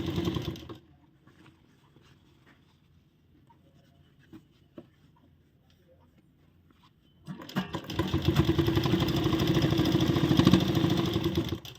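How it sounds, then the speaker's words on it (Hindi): A sewing machine stitches the bottom hem of an umbrella palazzo, first a quiet stretch with faint taps, then a steady loud mechanical whirring run that continues close up to the end. "और ये सिलाई हम हमारे प्लाजो के जो नीचे है ना बॉटम, उसके चारों तरफ लगाएंगे।"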